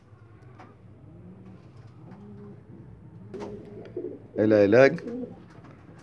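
Domestic pigeons coo in a low, soft, repeated rhythm under a man's speech, with a louder, fuller burst of calls near the end.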